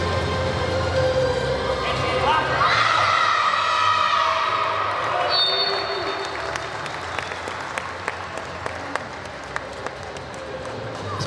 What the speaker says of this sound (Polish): Szanowni Państwo, jak najbardziej wskazane oklaski